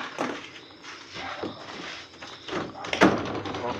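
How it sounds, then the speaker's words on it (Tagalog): A door swings open in a dark, unlit rural spot, giving a few scraping, knocking sounds near the microphone and a sharper clack near the end, with faint background noise between. "Buksan ko, pintuan mga kaibigan."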